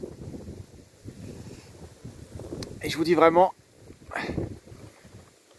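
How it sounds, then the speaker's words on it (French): Strong wind blows outdoors around a camping-car, with low gusty buffeting on the microphone under a voice speaking French. "Et en plus on a un super vent."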